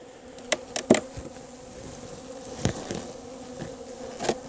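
Honeybees buzz around a hive opened up in winter, a steady insect drone with several louder passes as individual bees fly close by the microphone.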